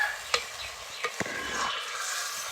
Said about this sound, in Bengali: খুব ভালো করে মিশিয়ে নিচ্ছি এটাকে